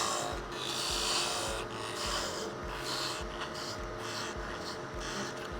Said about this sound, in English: do a cut and then move over about half the width of the parting tool